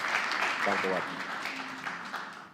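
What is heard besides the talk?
audience applause at an architecture conference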